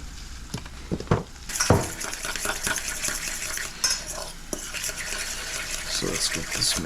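Egg and cheese mixture for pasta carbonara being stirred in a bowl with a utensil, giving repeated clinks and scrapes, some sharp knocks against the bowl, then a continuous wet scraping.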